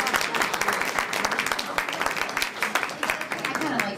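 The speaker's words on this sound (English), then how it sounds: "So a nice round of applause, please." A dinner crowd at the West Haven Black Coalition event applauds the local chief of police, with a dense, lively patter of many hands, steady and close, with occasional louder claps.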